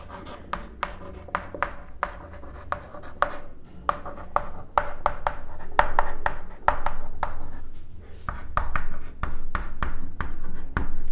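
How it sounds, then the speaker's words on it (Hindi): Chalk or marker strokes on a classroom board during a lesson on animal nutrition, a rapid series of scratchy taps and rubbing strokes, fairly close and alone, with no talk. "सबसे पहले मैं इस लाइन को बोर्ड के ऊपर लिखता हूँ"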